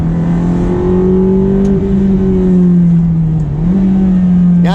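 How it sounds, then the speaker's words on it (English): A Ferrari F430 engine revs hard and close, its loud tonal howl climbing, then dipping sharply on quick downshifts before pulling up again, with no talking. "Now the downshift there was pretty decent"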